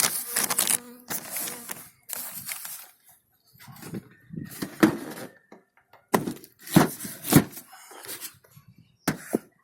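Carnica bees buzz at an open beehive. The hum comes close and swells and fades in uneven bursts, broken by brief gaps and a few knocks and thunks from handling the hive.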